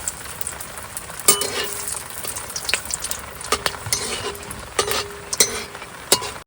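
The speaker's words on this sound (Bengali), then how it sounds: "এবার দিয়ে দেবো শুকনো লঙ্কা তেজপাতা আর গোটা গরম মশলা" Dried red chillies, bay leaf and whole garam masala spices frying in hot mustard oil, a close sizzle punctuated by sharp metallic clinks and scrapes of a spatula against the wok at irregular intervals.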